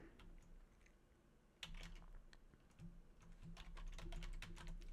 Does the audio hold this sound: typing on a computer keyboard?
yes